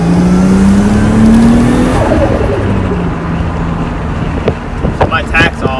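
A Nissan 240SX fitted with an RB25 turbo engine accelerates hard, the loud engine note climbing steadily in pitch before easing off, close and continuous with a few sharp clicks near the end.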